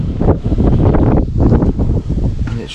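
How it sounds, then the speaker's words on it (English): Strong wind buffets the microphone outdoors during a Dodge Challenger widebody install, loud rumbling gusts surging and easing in irregular waves across the clip. "it's super windy today"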